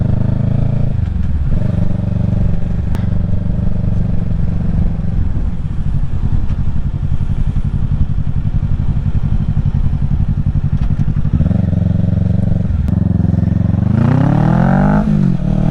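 A 2023 Kawasaki Ninja 650 fitted with a Yoshimura Alpha exhaust, baffle removed, idles loud and close, then is revved hard in rising and falling bursts near the start and end.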